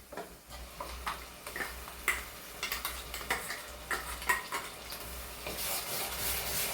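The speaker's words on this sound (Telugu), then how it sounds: "ఇవి కొంచెం పచ్చివాసన పోయేదాకా వేగనిద్దాము అండి" Ginger paste, onion paste and another ground paste fry in oil for a chicken curry, with a low steady sizzle under irregular clicks and scrapes of a spoon stirring against the pan, close and moderately loud, no talk.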